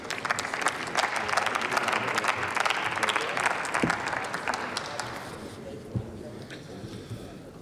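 Applause in the German Bundestag, many hands clapping briskly and fairly loudly at first, then thinning and fading away toward the end, with a few scattered claps trailing off.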